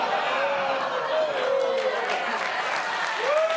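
Studio audience applause at a late-night comedy talk show, steady moderate clapping mixed with some crowd chatter and a few whistles over several seconds.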